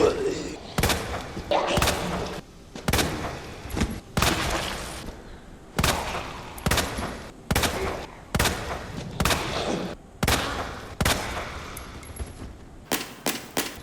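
The Broom handgun in Resident Evil 2 Remake is fired at zombies with about a dozen loud, booming shots at irregular intervals. Impact and reload clatter ring between the blasts.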